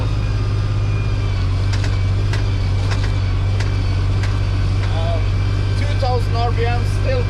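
A Valmet 505 tractor engine labours under load in 4th gear at around 2000 RPM, a loud, steady low diesel drone filling the scene while someone talks over it.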